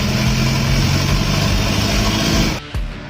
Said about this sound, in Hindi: इस बस की इंजन की आवाज़ मानो डायनासोर की आवाज़ की तरह लग रही।